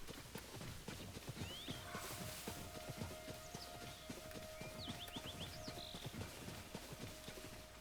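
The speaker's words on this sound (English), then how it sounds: "No? Just horses." Horses in the video game Tears of the Kingdom clip-clop steadily and neigh a few times at moderate distance, with high whinnies over the hoof rhythm and a faint background tone.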